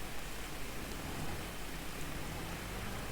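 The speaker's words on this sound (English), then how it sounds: "We don't want to fertilise in the rain. We wait for the rain to stop." Rain in Farming Simulator 22 falls as a dense, even hiss, steady and unbroken throughout, with no voices.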